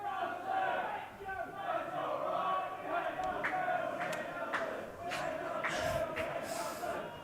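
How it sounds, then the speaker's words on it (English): Football supporters chanting in unison at a North London-style playoff match, Universities of Canterbury AFC against FC Nelson: a rhythmic, rising-and-falling crowd chant heard from a distance, with sharp claps and shouts breaking through near the end. "Crowd really getting into it now. Classic North London chant there."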